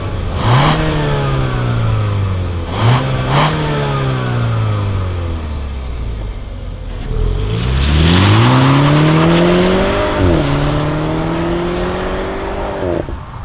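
A BMW 225i Active Tourer (F45) with 350 Nm accelerates hard toward 100 km/h in 6.6 s. The engine note climbs loudly through upshifts, eases off briefly, then pulls strongly again through another shift, with no voices.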